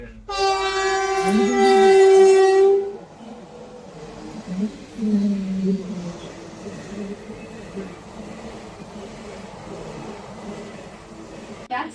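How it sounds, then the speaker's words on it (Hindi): A train passes a level crossing near Talegaon, with a loud harmonic horn blast in the opening seconds, followed by a rumbling roll of wagons and a shorter tonal call, while people talk throughout. "देखिए गाइस ट्रेन आ रही है यहाँ से फाटा के।"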